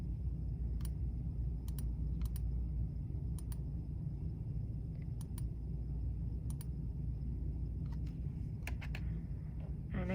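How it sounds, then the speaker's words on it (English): Computer arrow keys tap out sparse, crisp clicks, sometimes singly and sometimes in quick pairs, over a steady low hum in a lab. "I'm just scrolling with the arrow keys on the computer."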